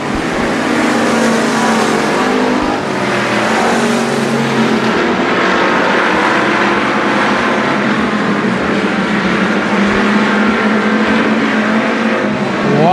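Race cars battle for position late in a race at the Texas Grand night event, engines roaring loudly and continuously at close range with overlapping revs and passing surges.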